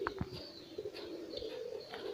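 A female Gresik rambon pigeon coos softly in a few short, low calls over a steady background hum, with faint chirps mixed in.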